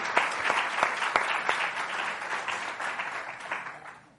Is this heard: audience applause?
yes